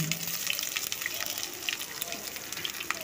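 Chopped garlic, green chili and grated ginger fry in a pan for a vegetarian soya chunk curry, giving a steady, close sizzling hiss with small crackles throughout and no talk.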